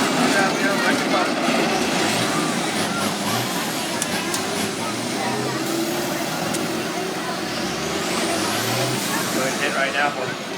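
School buses ramming each other in a demolition derby at Riverhead Raceway, loud rumbling engines, scraping and hissing air brakes under a dense crowd roar, with an announcer talking throughout.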